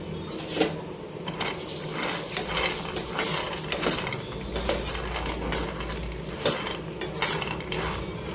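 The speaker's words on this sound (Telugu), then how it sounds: "పల్లీలు పుట్నాలతో చట్నీ వేస్తున్నాం కదా, పల్లీలు మంచిగా ఫ్రై చేసుకోవాలి" Peanuts dry-frying in a pan for a coconut-free peanut and roasted gram chutney, with steady rattling and scraping of the nuts against the pan and scattered sharp clinks throughout.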